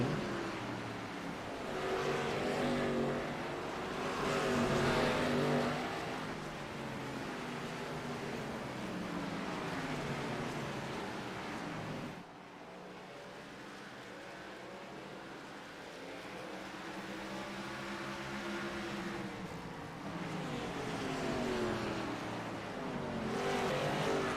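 Packs of NASCAR Xfinity race cars roar around Martinsville Speedway in a sim-racing league race, a continuous dense engine drone that swells and fades as the cars pass, with no voices.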